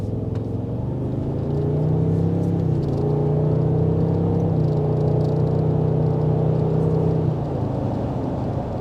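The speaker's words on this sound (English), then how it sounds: "some people don't know I'm going over speed bump" Cabin rumble inside a 2022 Toyota Tundra rolling over speed bumps with very stiff suspension, a loud continuous low drone and engine hum that shifts in pitch partway through, without speech.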